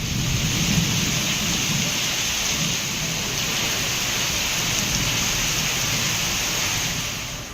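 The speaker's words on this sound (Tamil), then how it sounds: "இடி மின்னலுடன் கனமழை பெய்தது" Heavy monsoon rain with thunder and lightning in Chengalpattu district, Tamil Nadu: a loud, unbroken roar of downpour with a deep rumbling undertone that holds steady throughout, with no voices.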